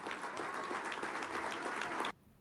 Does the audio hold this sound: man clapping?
yes